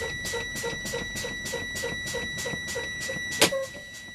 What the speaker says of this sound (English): Once our warning light and buzzer comes on